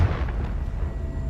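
A fiery Confringo spell blast in Hogwarts Legacy, one short, loud, deep boom with a rumbling tail and no voices.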